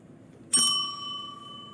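One bright ring of a small bicycle-style bell, struck once close to the mic, its clear tone decaying slowly over about a second with no talk.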